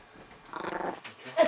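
A dog in a tantrum growls low and rough at close range, building for about a second before breaking into a sharper yelp at the end.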